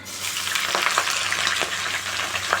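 Spices such as black cumin and chilli frying in hot oil in a pan, with a steady close sizzle and a few short stirring scrapes.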